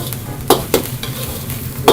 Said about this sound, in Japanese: バチバチいうこう炒まってくる音がしてきたんで、まあ、あとちょっとで完成ですかね。